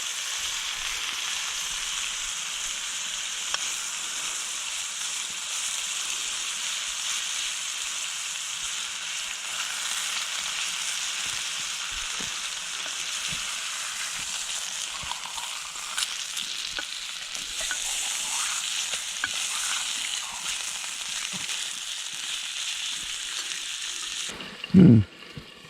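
Pork blade steak frying in a pan outdoors in the snow, with a steady, even sizzle running the whole way and a few soft stirring clinks. A sharp knock near the end rises above the sizzle.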